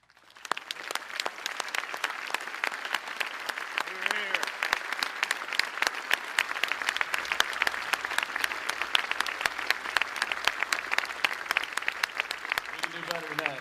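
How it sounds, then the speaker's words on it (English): An outdoor crowd applauds veterans at the 78th Pearl Harbor remembrance ceremony in 2019, with continuous moderately loud clapping and sharp individual claps standing out, brief speech fragments underneath. "A grateful nation applauds all of you today."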